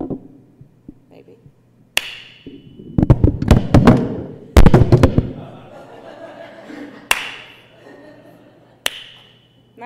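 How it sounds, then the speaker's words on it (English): Hand clapping sounds in a church sermon setting, with sharp irregular claps and bursts of slapping, loud and close, some isolated single claps and a couple of dense clusters, with a faint steady hum underneath. "consistent clap at a decent concert"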